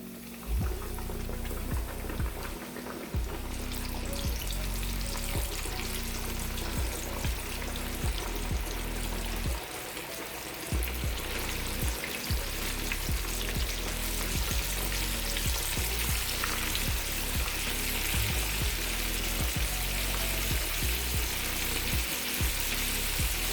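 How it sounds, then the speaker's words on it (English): Catfish coated in flour and cornmeal sizzle steadily in oil over medium heat, a constant bright crackling hiss with small pops, close and unbroken. "We are going to fry the fish on medium heat."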